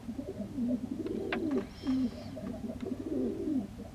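Soft, repeated cooing from a white curved-tailed dove and a half fantail, half fell pigeon kept with week-old babies, a low rolling rhythm of several coos, close but quiet, with a few faint higher chirps.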